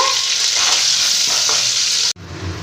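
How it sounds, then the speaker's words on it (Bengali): Halved potatoes seasoned with salt and turmeric fry over medium flame in oil, a loud, dense, continuous sizzle close by that cuts off abruptly near the end before a quieter bubbling resumes. "মিডিয়াম ফ্লেমে আলুগুলোকে একটু ভেজে নেব"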